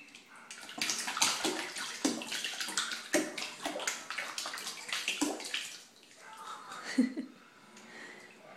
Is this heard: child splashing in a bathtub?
yes